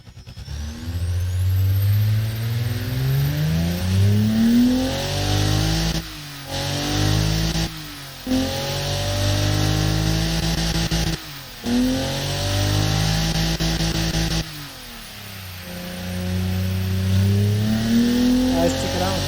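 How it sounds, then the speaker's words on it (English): A turbocharged overhead-camshaft engine with single-point EFI, running on 95 octane premium fuel in the Automation car-design game, revs repeatedly. Each pull climbs in pitch, then drops through brief pauses, and someone talks over the loud, close engine. "Oh my god, listen to that turbo."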